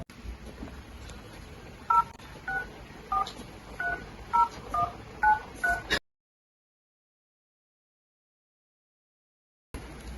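Telephone keypad tones beep in a quick run of about ten dialed digits in a staged historical drama, clear over a faint hiss before the sound cuts to silence.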